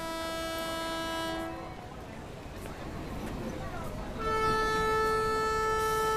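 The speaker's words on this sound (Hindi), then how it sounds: "ये ट्रेन हमेशा करेक्ट टाइम पे ही छूटती है" The Karwar Express waits at a station and sounds a long, loud multi-tone horn, which stops, then blares again after a stretch of rumbling platform noise.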